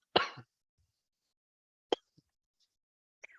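A person with a cold gives one harsh throat-clearing cough, then two short, sharp coughs after pauses, each close and isolated in an otherwise silent room.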